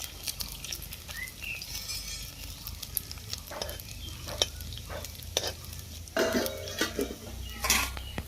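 Gandho bhadali leaf fritters frying in hot oil in a pan in a village kitchen, a steady soft sizzle with intermittent clinks and scrapes as the fritters are flipped one by one.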